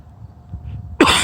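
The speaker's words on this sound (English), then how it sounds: "I felt it arising, the need to cough, but I didn't cough. The body coughed." A single abrupt, loud cough breaks out near the end after a stretch of quiet low hum.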